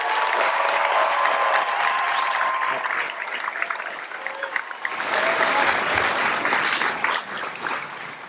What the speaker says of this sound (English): Ladies and gentlemen, I would ask that you give a round of applause to this dedicated team of professionals.